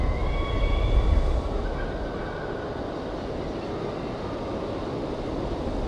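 A train runs on rails in the video game Syberia, a steady rolling rumble with faint squealing tones early on and no voices.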